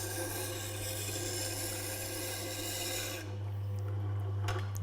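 A woodturning tool is held against a turning Tormek sharpening stone, making a steady, close rasping scrape over a constant low motor hum that eases slightly partway through.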